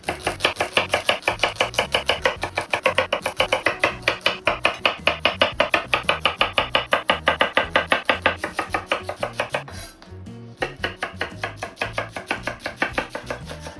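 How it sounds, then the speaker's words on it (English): Steady, rapid knife chops on a cutting board, evenly rhythmic and close, pausing briefly before resuming at the same brisk pace. "I chop the rest of my vegetables."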